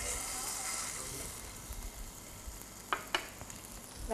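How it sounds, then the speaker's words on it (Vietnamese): Salmon fries in olive oil in a pan, a steady close sizzle that fades a little, broken near the end by a few sharp clinks and scrapes of a utensil. "Chúng ta chiên cá."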